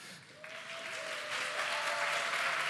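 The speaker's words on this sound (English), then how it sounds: "and I think the audience will confirm it by a big applause." Audience applause at a film masterclass with a director, starting sparse and swelling into steady, dense clapping that holds at a moderate distance throughout.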